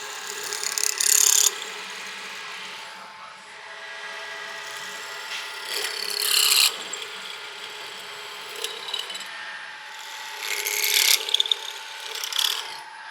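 Metal being drilled for a rear bash bar on a manual C8 Corvette drift car, coming as three loud, harsh bursts of a few seconds each, separated by quieter mechanical whirring and clicking.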